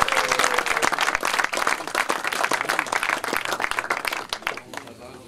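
Applause for football club leaders and volunteers at a season-closing gathering: loud, dense clapping from a crowd that keeps going for several seconds before thinning out at the end, with some voices mixed in.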